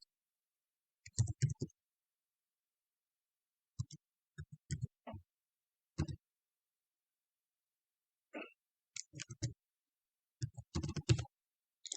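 A password is typed on a computer keyboard in short, close clusters of quiet key clicks separated by silent gaps.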